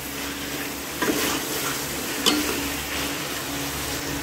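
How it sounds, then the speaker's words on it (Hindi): Mutton karahi is stirred in a frying pan over a continuous sizzle. A spoon scrapes and taps twice against the pan, and no one speaks. "इसे 1 से 2 मिनट तक इस तरह आप लोगों ने हिला देना है"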